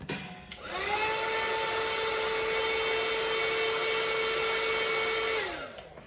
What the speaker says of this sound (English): I hit it with the heat gun.